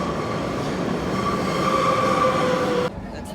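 A Madrid subway train rumbles steadily through a station with a high wheel squeal sustained over the roar, then the noise drops abruptly near the end as the train fades.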